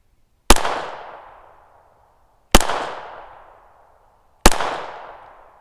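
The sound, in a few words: Glock pistol gunshots with knockoff ammo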